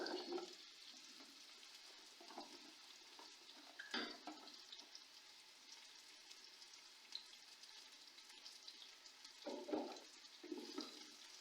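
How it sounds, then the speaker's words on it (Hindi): Sliced onions fry in oil in a pan for chicken biryani, giving a faint, steady sizzle with occasional clinks and scrapes of stirring. "प्याजों को मैं अच्छी तरह ब्राउन कर लेती हूँ"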